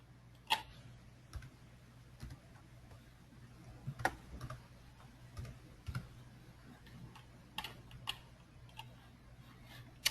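Computer keyboard typing in a quiet room, scattered soft key clicks and a few sharper taps at an uneven pace, close but faint, with no voices.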